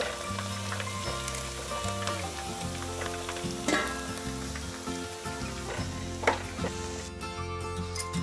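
Pieces of chicken fry in oil in a pan for a Hindi-style chicken chili, a steady close sizzle and crackle running throughout, with a faint tonal hum underneath and no talking.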